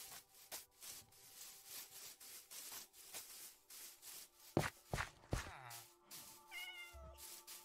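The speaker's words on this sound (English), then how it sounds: "Why is it so hard to take this cat?" A cat meows a few times in Minecraft survival play, short, fairly clear calls in the latter half over a steady run of block and movement clicks, with no speech.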